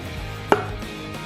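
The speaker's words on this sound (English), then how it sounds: "Just going to trim the excess of the sides off." A knife trims the sides of a venison shoulder roast, heard as one sharp cutting tap against the board amid a quiet background, with no speech.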